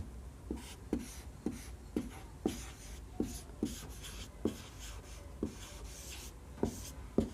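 A pen writing the word history on a paper or board: a quiet scratching run punctuated by regular soft taps about every half second as strokes begin, close and alone with no talk.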